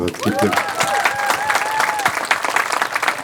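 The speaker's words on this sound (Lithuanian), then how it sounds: "Tai plojimai Rokui." Applause for Rokas from an audience at a live show, sustained clapping that fills the room for a few seconds with a tonal sound ringing over it.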